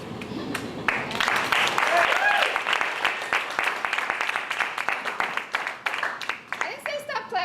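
An audience at a university poetry event applauds with loud, sustained clapping that continues under a raised voice, then breaks into sharper, more separate claps toward the end.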